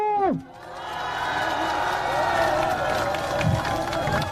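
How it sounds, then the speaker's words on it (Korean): A raised voice cuts off, then a big outdoor crowd at a political campaign rally in a lake park erupts into sustained cheering and clapping, a steady roar that holds throughout. "박수와 함성으로 엄청나게 보내주셔야 됩니다"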